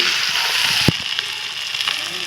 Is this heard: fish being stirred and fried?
yes